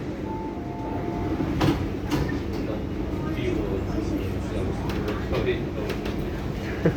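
MTR West Rail Line C-Train pulling to a stop at Hung Hom platform, a steady low rumble of the carriage with faint tonal whines early on, scattered clunks and rattles over the continuous station and train noise, with someone talking.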